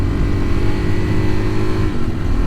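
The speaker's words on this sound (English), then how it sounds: "I'm actually on a 2022 Suzuki DRZ400." A 2022 Suzuki DRZ400 dual-sport motorcycle engine running steadily during an off-road ride, a loud, continuous low rumble with wind noise and no talk.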